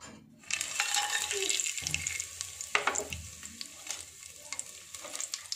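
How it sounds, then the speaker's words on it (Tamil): Biryani masala hitting hot oil and ghee in a pan for mutton keema biryani, a steady close sizzle and fry with scraping stirs and a few clinks of the utensil against the pot. "எண்ணெயும் நெய்யும் சூடாயிடுச்சுங்க இப்போ நம்ம எடுத்து வச்சிருக்க பிரியாணி மசாலா எல்லாம் ஆட் பண்ணிக்கலாம்"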